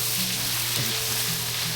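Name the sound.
frying food in oil in a pan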